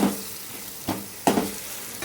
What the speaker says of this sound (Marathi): तर मंडळी फोडणीत टाकलंय मी